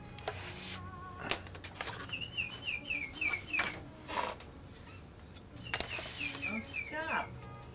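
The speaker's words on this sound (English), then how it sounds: "That bird got back in the house?" A bird chirps indoors during model-aircraft building with balsa wood, its short rhythmic tweets repeating in two bursts above a room's background of handling noises and occasional bumps.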